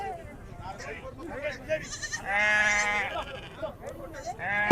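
Goats bleat loudly and close by at a busy weekly livestock market, one long bleat standing out among shorter calls, with people talking over the animals throughout.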